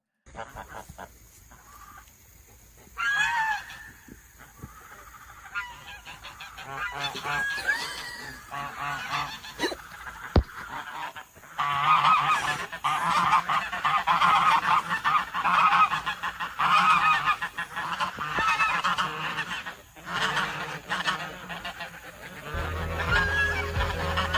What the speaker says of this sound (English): the ducks are surrounding her and making a hell of a lot of noise